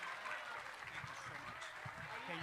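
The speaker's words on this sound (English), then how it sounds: "Please give everybody a big round of applause." An audience at a state debate championship at a college applauds the winners, with steady broad clapping at moderate distance and voices mixed in.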